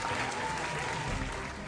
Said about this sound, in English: Let's give them a round of applause as we begin the competition.